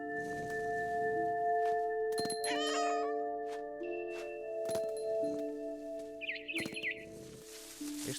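A cat meows in the video game What Remains of Edith Finch: a few clear, drawn-out meows over sustained game music tones, with some bird chirps near the end.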